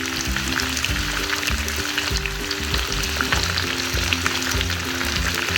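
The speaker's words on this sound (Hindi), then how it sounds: "तो इसी तड़के के अंदर ही इस चिकन को भी पका लेंगे अच्छी तरह।" Chicken pieces frying in a hot spiced tadka for chicken saag give a steady, loud sizzle. A rhythmic stirring scrape repeats through it, with no voices.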